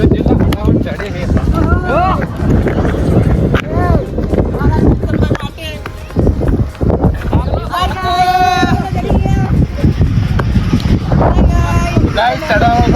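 Strong wind buffets the microphone on a hill climb up to a temple near Amirgadh, a steady roaring gust throughout while people talk and breathe over it.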